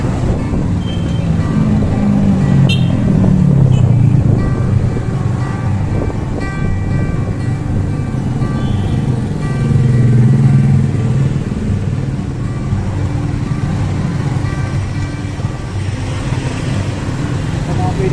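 Busy road traffic of cars and motorcycles, heard as a continuous loud rumble with engines rising and falling as vehicles pass close by, and a voice talking over it.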